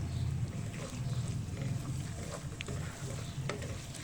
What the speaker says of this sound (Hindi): अच्छी तरह से जो है हम चिकन को भून लेंगे।